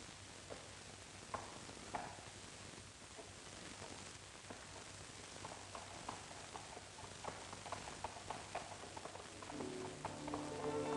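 Horse hooves clip-clopping at a steady walking rhythm in a 1950 Italian countryside setting, a series of sharp knocks over a dull outdoor background that builds a little louder toward the end.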